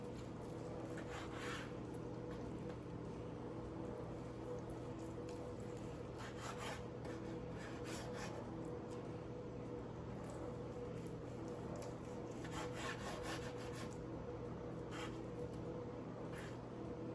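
A knife slices through smoked pork tenderloin on a board, producing soft, quiet rubbing and scraping strokes in a few bursts over a faint steady background hum.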